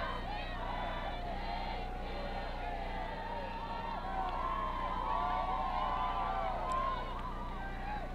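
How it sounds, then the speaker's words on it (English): A crowd at a football playoff game sings together across a stadium, a dense, sustained wash of many voices rising and falling in a steady melodic swell, heard from a distance with general hubbub underneath. "Not sure who the crowd's singing happy birthday to you"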